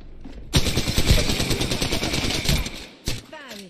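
Rapid automatic gunfire in a battle royale video game, loud close bursts rattling for about two seconds, then a short gap and one more sharp burst.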